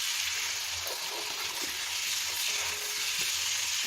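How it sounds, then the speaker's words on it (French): Beef bourguignon sizzles and fries steadily in a pot as it is stirred, a continuous close hiss with occasional soft scraping taps of the spoon and no talking. "Continue de remuer."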